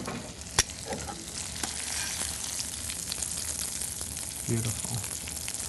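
Veal sizzling and frying in olive oil in a pan, a steady broadband crackle throughout with a few sharper pops and stirring clatters, and a brief spoken word over it.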